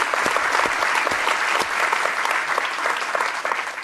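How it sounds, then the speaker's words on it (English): An audience at a Wharton talk bursts into applause, a dense, even roll of clapping from a large crowd throughout, with no talking over it. "I think that deserves a round of applause, by the way"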